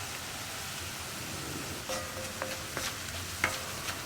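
Coriander powder frying in a pan for a tomato potato curry gives a faint, quiet sizzle, with a few soft scraping stir strokes in the second half.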